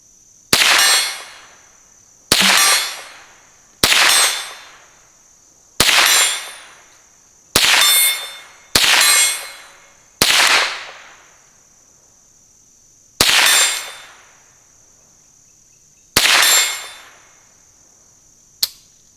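Ruger 10/22 Sporter 75th Anniversary Edition rifle firing, nine sharp loud reports spaced a second or two apart, each ringing out with a decaying echo, followed by a faint click at the end; no talk.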